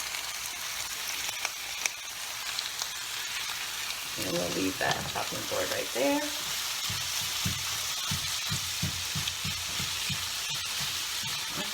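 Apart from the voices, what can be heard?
diced tofu frying with onions in a pan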